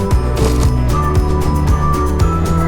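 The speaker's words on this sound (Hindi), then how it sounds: "इस पट्टी को सेंटर में सिलाई लगा लेंगे" A sewing machine stitches down the centre of a fabric strip for a baby frock, running steadily and loudly with a fast mechanical clatter and repeated rhythmic pulses throughout, with no talking.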